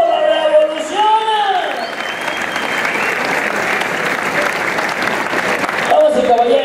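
Crowd applause at a rodeo ranch event in Ocuituco, Morelos, loud massed clapping with scattered cheers and whoops, an announcer's voice at the start and end.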